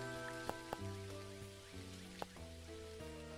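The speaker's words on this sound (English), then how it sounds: "So since it's raining, I'm just going to quickly check on the farm" Soft rain falls in the farming video game Dinkum, a quiet, steady patter beneath the game's gentle melodic music, with a few faint clicks scattered through it.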